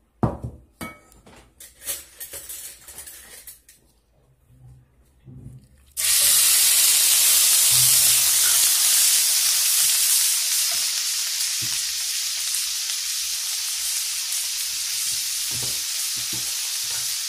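Oil for a traditional Kabyle dish hits a hot cooking pan after a few seconds of clattering handling, then a loud, steady sizzle carries on close up, with no talking.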